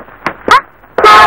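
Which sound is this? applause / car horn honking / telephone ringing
car horn honking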